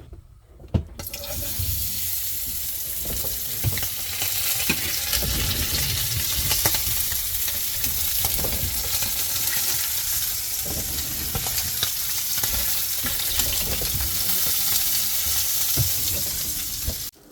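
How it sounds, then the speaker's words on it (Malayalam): Masala-coated mackerel fish hits hot oil with a sudden burst, then fries in a loud, continuous close sizzle and spatter that holds steady for a long stretch, with no voices. "ഇനി എണ്ണ ചൂടായി കഴിയുമ്പോൾ നേരെ നമ്മുടെ മീൻ ഓരോന്നായിട്ട് ഇട്ട് കൊടുക്കുക."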